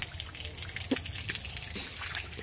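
Water splashes and drips while plants are watered by hand at home, a light, irregular trickle with soft plopping drops, fairly close and moderately quiet, with no talking.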